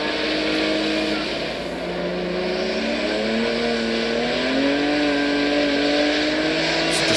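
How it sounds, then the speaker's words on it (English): A Subaru time-attack car driven hard with its back end sliding gives a loud, sustained engine drone whose pitch climbs and wavers steadily, heard up close with no talking. "You can see he's already counter steering, kicking the back out."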